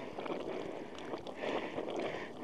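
Sulphur bubbles and gurgles in a hot volcanic desert, a faint, steady wet churning with a soft airy hiss around it.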